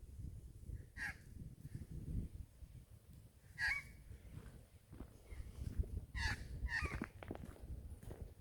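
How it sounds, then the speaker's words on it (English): Outdoors at a sedimentary rock quarry, magpies call in several separate bursts of warbling, carolling notes, moderately distant over a low, rumbling background. "Even the magpies sound beautiful."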